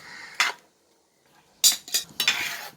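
Jackfruit jam is worked in a pan, with a spoon scraping and clattering against the metal in several short bursts separated by a quiet pause.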